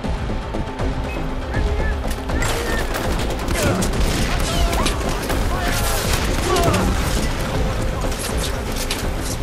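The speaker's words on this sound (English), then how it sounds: "Oh, I set off fireworks!" Fireworks going off in Far Cry 4, a dense rapid crackle of bursts and pops at close range, continuous for several seconds.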